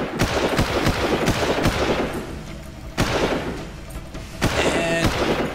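Gunfire in the video game Far Cry at a beach assault: loud, rapid shots crack in a quick string, then several more bursts, close and dominant with little else audible.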